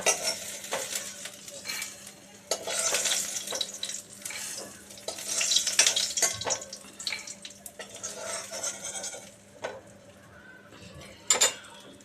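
Lentil dumplings (bori) finishing in hot oil, an uneven sizzle that swells and fades with scraping and clinks as the dumplings are lifted out.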